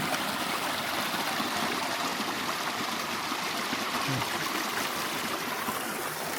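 Clear stream in rural Laos flowing steadily, a continuous bright rush and trickle of water at moderate distance, with no interruptions or talking.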